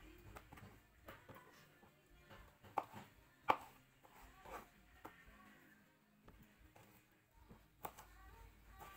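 A knife slices mushrooms and patola (sponge gourd) into small pieces on a cutting board, giving quiet, irregular close-up chops and taps with short pauses between them.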